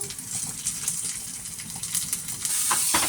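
Curry leaves, dry red chilli and asafoetida sizzling in hot oil for a Tamil Nadu sambar tempering, a steady close crackle and hiss with small pops, a brief stir near the end.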